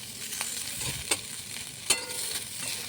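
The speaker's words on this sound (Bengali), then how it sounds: "ছড়াটা ভেজে নিলাম" Taro stolons seasoned with salt and turmeric fry in a pan with a steady, close sizzle and a few sharp scrapes of stirring, and no voices come through.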